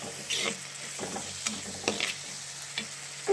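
Onions sautéing in a pan for garlic kulambu, a soft continuous sizzle with occasional spatula scrapes and light clicks, close and fairly quiet, with no talking.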